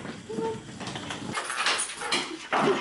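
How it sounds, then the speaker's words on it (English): An excited, happy dog whimpers and whines in short, high, uneven bursts, close by in a quiet room late at night, with a few soft bumps and no talk. "What a happy dog."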